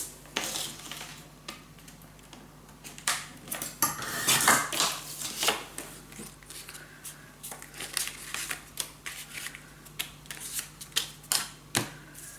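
Paper being trimmed for a scrapbook mini album, a busy run of crisp clicking and snipping sounds close by, some bursts dense and others sparse, with no talking.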